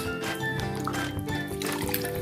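Wringing a damp cloth over water while sealing a diamond painting with Mod Podge: a short burst of dripping and trickling liquid, close and moderately loud.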